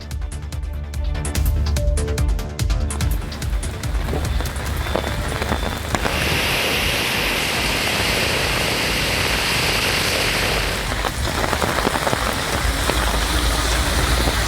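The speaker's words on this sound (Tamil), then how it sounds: "திடீரென கருமேகங்கள் சூழ்ந்து சூறைக்காற்றுடன் கனமழை வெளுத்து வாங்கியது" Heavy summer downpour with gusty winds lashes surfaces in a dense, continuous roar that swells and thickens partway through, loud and close throughout.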